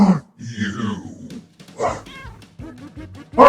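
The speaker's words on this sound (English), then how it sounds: "That's the human's cat?" A cat meows several times up close, loud drawn-out cries with rising and falling pitch separated by short gaps.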